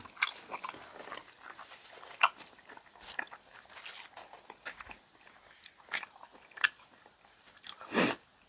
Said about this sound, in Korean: 김치찌개는 그냥 밥을 비벼 먹어줘야 돼요